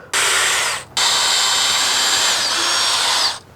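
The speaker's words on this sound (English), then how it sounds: "why do we need to drill pilot holes?" A power drill boring pilot holes into a wooden entry door frame, two close, loud high-pitched whirring runs, a short one then a longer one, no talking.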